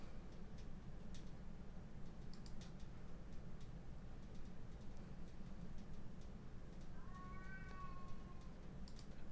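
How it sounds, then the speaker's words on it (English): A pet cat gives a single faint drawn-out meow in the background near the end, behind soft ticking and clicking from a game and a low hum. "I think I hear my cat in the background"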